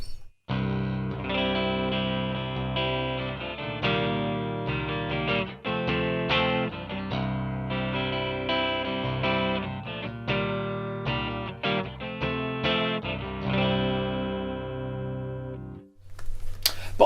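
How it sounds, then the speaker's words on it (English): Metal electric guitar played clean on the neck pickup with chorus and delay, a steady run of ringing chords and notes with shimmering echoing tails, loud and alone, ending in a brief noisy burst. "You can see how with some chorus on that and some delay,"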